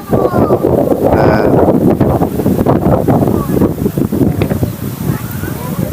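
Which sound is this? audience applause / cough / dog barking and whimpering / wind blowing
wind blowing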